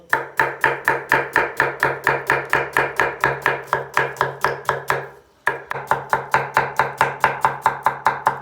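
A knife chops onion on a cutting board in a fast, even rhythm of crisp close thuds, about four per second, pausing briefly midway before resuming.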